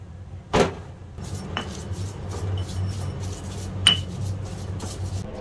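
Chili sambal, made with fried chilies and sugar, ground by hand with a pestle in a mortar: quiet scraping and rubbing with a few sharp clinks and knocks against the bowl, close by and without voices.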